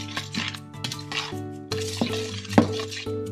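A spoon stirs butter into cheese sauce and condensed cream in a bowl, making soft scraping swirls and a few light clinks close up, over a steady low hum.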